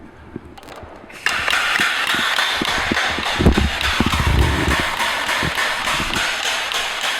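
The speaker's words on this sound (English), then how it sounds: "The pump is filling, and as it fills you'll see that this gauge indicates the level as it rises" A Lincoln pressureless grease pump fills with compressed air hooked up, a loud steady mechanical whir and hiss kicking in abruptly after a quiet start, with repeated rhythmic clicking knocks running through it.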